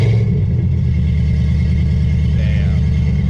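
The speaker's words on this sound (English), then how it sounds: "this exhaust is extremely droney" Low, steady exhaust drone from a Mazda RX7 with a swapped LS1 V8, heard from inside the car as a loud continuous hum at cruise with no breaks.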